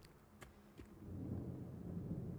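Thunder rumbles low and steady from an approaching storm in the Silent Hill 2 Remake, building from a quieter start into a sustained, heavy roll with no speech over it.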